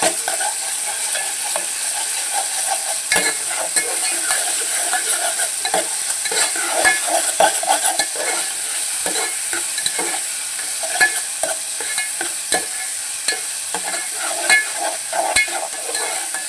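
Ginger garlic paste frying in a pan for a moong dal masala curry: a loud, steady sizzle near the microphone, broken by frequent stirring scrapes and taps.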